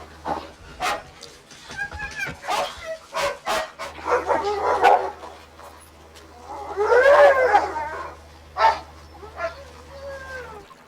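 Huskies at an isolated Arctic weather station on Hopen Island bark, yip and whimper in repeated excited bursts while fending off a polar bear, with a steady low hum underneath throughout.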